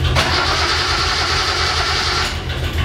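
An old Datsun 240Z engine cranks and turns over without fuel getting through, a loud mechanical churning with a rough rumble throughout, ending abruptly near the close.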